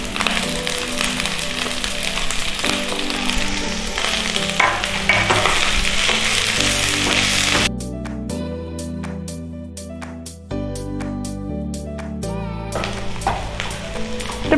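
Capsicum and green chilli frying for chilli chicken, a steady close sizzle with stirring that carries on throughout over a bed of layered music, with no talk.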